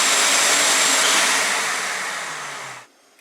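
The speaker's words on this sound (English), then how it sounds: "So I have my shop vac, and I'm going to go in here with my shop vac" A shop vac roars steadily as it sucks debris out of a vacuum cleaner, a loud broadband whoosh that slowly fades and then cuts off abruptly near the end.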